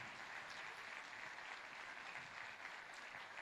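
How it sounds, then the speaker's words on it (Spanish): Church congregation clapping during a Spanish-language service, a continuous, even spread of many hands heard faintly and at a distance, unbroken throughout. "Dale un aplauso al Señor."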